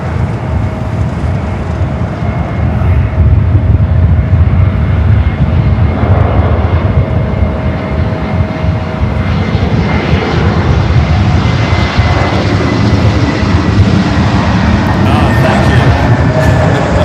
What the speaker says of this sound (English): North side arrival for the Lufthansa Queen.